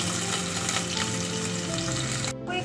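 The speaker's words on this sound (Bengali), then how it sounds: "কড়াইয়ে তেলটা গরম হয়ে গেছে, এবার আমি এর মধ্যে চিংড়ি মাছটা দিয়ে দিচ্ছি।" Prawns dropped into hot oil in a wok, loud dense frying hiss that keeps up steadily, with a brief dip in the brightest crackle near the end.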